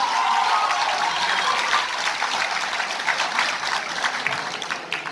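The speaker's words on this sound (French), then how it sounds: "Mesdames et messieurs, applaudissez 6e sens." Audience applause at a regional youth business competition in Tangier, a dense, steady wash of clapping from a large crowd that holds loud for several seconds and then gradually thins toward the end.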